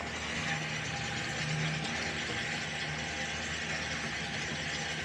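A bilge pump on a storm-swamped 19ft Sea Hunt boat runs steadily, pumping out water with a continuous loud mechanical whir and rattling churn that holds even throughout, with no voices.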